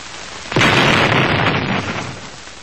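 Ignited petrol vapours, set off by an open-flame stove in a room, erupt in one sudden loud explosion with a sharp onset, then a broad roaring rumble that slowly fades over about two seconds.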